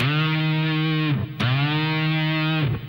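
A heavily distorted electric guitar note sustains, then its pitch dips and swoops back up twice via the whammy bar, loud and close with no talking.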